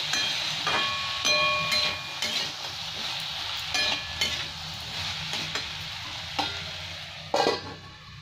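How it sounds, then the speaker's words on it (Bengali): Potatoes with turmeric are stirred in a pan for aloo posto, a utensil scraping and clinking against the metal in uneven strokes over a steady low sizzle, close up and without talk. "আবার একটু নাড়াচাড়া করে তারপর আমি ঢাকা দেবো"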